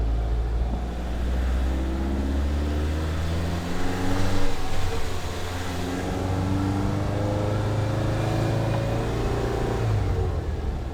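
A 1970 VW Bus engine with a sticking gas pedal runs steadily at high revs, its droning hum holding loud and unbroken without easing back.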